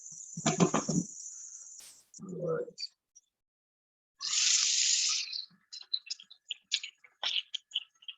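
Water runs from a kitchen tap for about a second, loud and close, during asparagus cooking, with a later burst of running water and scattered clinks of dishes and utensils around it.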